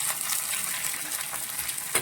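Steady, close sizzling of chilies and curry leaves frying in hot oil, a continuous crackling hiss with small pops.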